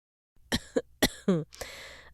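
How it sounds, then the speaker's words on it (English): A string of sharp coughs and throat-clearing sounds, four or five bursts in quick succession, close and fairly loud. "I've had a bad cough for days."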